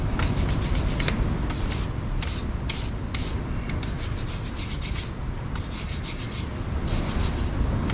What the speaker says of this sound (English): Around it with the wire brush, just so none of the crumblies get in there when we unscrew this oil cap.